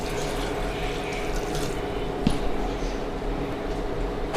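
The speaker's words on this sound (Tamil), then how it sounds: "இப்போ தேவையான அளவு தண்ணி ஊற்றிக்கலாம்." Water poured into a pot for country chicken soup, a continuous close splashing and trickling stream with a brief sharper splash midway, steady throughout without talk.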